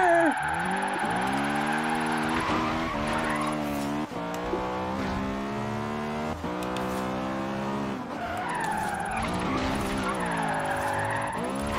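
An Acura Integra Type R in Forza Horizon 3 whips through a 180 spin, its tires squealing loudly over a steady, wavering engine drone that continues for the whole stretch.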